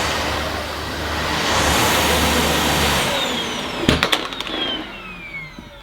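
A Dyson Ball Animal Multifloor vacuum cleaner roars across deep pile carpet, a loud close whooshing drone that swells and then fades, ending with a few clattering knocks as the motor winds down.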